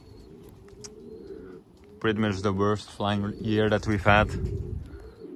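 Pigeons coo softly in the background at a loft housing young birds and older breeders, while someone talks loudly over them.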